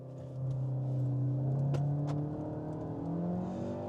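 A 2025 VW Tiguan accelerates hard from a brake-boosted launch, its engine note climbing steadily in pitch with a gear shift partway, heard from inside, moderately loud and without talk.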